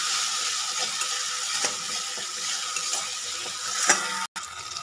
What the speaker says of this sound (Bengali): জিরে এবং ধনেটাকে একটুখানি ভেজে নেব।